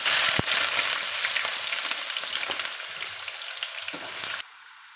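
Sliced onions hit hot oil in a pan with dried red chillies, bay leaves and cumin, giving a loud, dense sizzle that crackles steadily, then drops abruptly to a much quieter hiss near the end.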